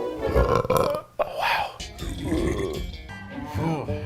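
A man lets out several loud, drawn-out burps in a row during a meal, each a croaky guttural belch with brief gaps between them, close to the microphone.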